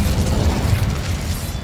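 Fiery Incendiary spell blast in Hogwarts Legacy, a short, dense rumbling burst of flame-like crackle and boom lasting under two seconds, fairly loud with no speech.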